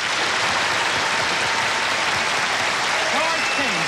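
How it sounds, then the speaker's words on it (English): Studio audience at a 1973 music television show breaks into steady, broad applause, a dense wash of clapping from start to finish with a voice briefly audible beneath it. "Let's bring him on with some nice applause."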